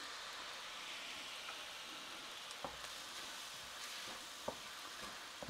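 Egg fried rice sizzles steadily in a hot pan with soy and oyster sauce, a dense continuous frying hiss punctuated by a few sharp clacks of stirring.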